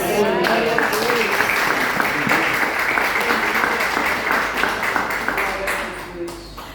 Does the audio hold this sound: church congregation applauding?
yes